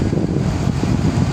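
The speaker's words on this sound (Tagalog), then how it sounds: "Ayan, nalakas ng hangin." Strong gusting wind in the rain beside the Pasig River at the Arroceros esplanade, a steady loud low roar buffeting the microphone throughout, with no voices.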